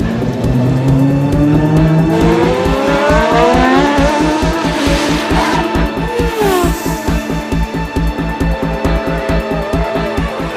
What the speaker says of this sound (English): the rain comes in just as Christian prepares to leave the pits